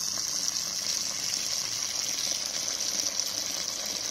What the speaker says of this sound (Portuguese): Eu vou trocar a água umas duas ou três vezes, mais ou menos.